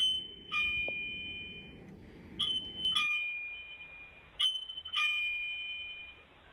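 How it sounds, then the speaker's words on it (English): A doorbell in a child's upstairs room rings in several separate electronic chime bursts, each a bright, high tone, heard in a quiet house with a faint background rumble fading partway through. "the doorbell in my kid's room upstairs is going off"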